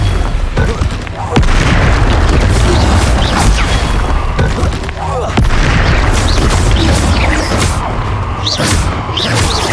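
Confringo blasting spell exploding in Hogwarts Legacy combat, a run of heavy booms and crashing impacts that stay loud and dense for nearly ten seconds, with voices shouting over the clamour.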